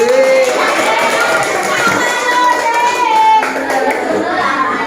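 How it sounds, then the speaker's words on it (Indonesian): A class of sixth-grade children claps for a classmate during a science lesson, a steady mass of clapping that runs the whole time with young voices calling out over it. "Tepuk tangan buat Kamarudin."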